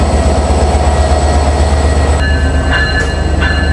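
The Rupsha Express, hauled by locomotive 6302, runs along the rails with a loud, steady rumble and rhythmic carriage noise heard from on board, plus faint tonal squeals near the end.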